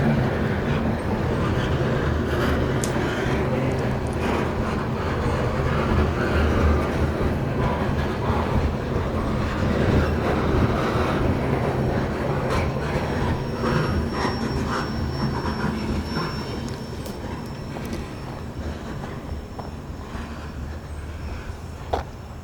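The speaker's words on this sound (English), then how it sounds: "or is the train coming down track 2?" A long grain train rumbles steadily past on the tracks at Thurmond, West Virginia, a dense low roar with metallic clatter and a faint high wheel squeal, easing off slightly near the end.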